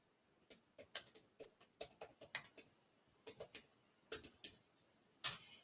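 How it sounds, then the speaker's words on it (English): Typing on a computer keyboard while making a folding card: bursts of quick, close clicking keystrokes in irregular runs with short pauses, no talk. "I have to think and type at the same time."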